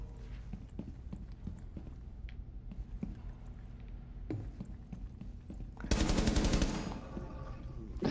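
Gunfire in the video game Tom Clancy's Rainbow Six, sparse distant shots through the first part, then a loud rapid automatic burst for about a second, followed by quieter sounds.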